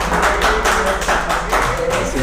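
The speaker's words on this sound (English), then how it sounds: "I see some applause there." Applause from a crowd gathered at an election results event at party headquarters, a dense steady patter of many hands clapping throughout, loud and continuous with a murmur of crowd noise beneath.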